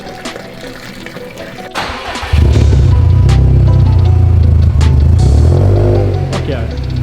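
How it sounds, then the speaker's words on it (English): Gasoline drains from the fuel tank of a Subaru STI in a steady, loud liquid rush that starts partway through and continues with faint background noise. "Okay, we drained some of the gas out."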